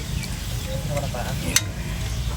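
Food fries in hot oil in a pan during outdoor cooking in San Pablo, Laguna, giving a steady close sizzle with a few brief stirring scrapes and one sharp clack near the middle.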